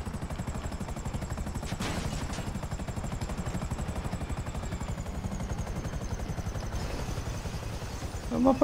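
Steady, rapid rotor chop and engine whine of a helicopter in Grand Theft Auto V, continuous and fairly loud throughout, with a brief burst of higher noise near the end.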